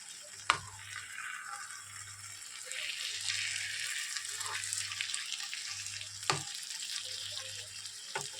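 Koi fish frying in oil with onions in a pan, a steady sizzle broken by a few sharp clinks of a utensil against the pan, with a low hum running underneath.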